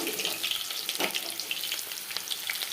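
Chopped onions fry in hot oil in a pan for a tomato and green chilli masala curry, giving a steady, close sizzle with soft stirring scrapes throughout.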